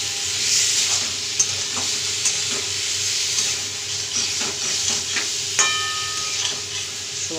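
Marinated soybean chunks and fried potatoes for a curry are stir-fried in a pan, giving a steady close sizzle and hiss broken by scattered light spatula scrapes and taps, without any speech.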